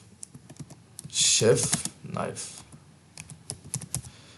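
Someone types a keyword on a computer keyboard while filling in an Amazon product listing, with short quick bursts of close keystrokes, one denser flurry, and a voice talking intermittently.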